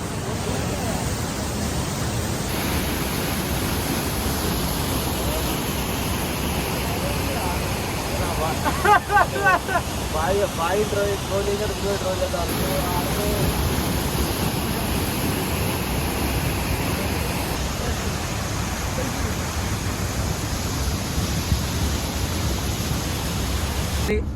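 A small waterfall at Lagodekhi pours in a constant broad hiss, steady and fairly close, with a few faint voices and brief scraping sounds partway through.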